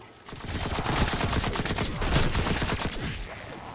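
A video game nailgun firing in a rapid, continuous stream of sharp clacking shots, close and loud, that tapers off near the end, with no speech.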